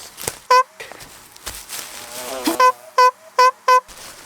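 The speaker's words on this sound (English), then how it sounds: "Those are wasps." Wasps from a swarm buzz around an island campsite in a string of loud, close fly-bys, five short bursts over a softer background drone and light rustling.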